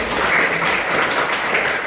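A burst of hand clapping from a group, steady and dense for a couple of seconds, without voices.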